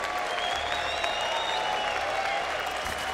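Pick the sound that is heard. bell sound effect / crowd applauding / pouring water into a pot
crowd applauding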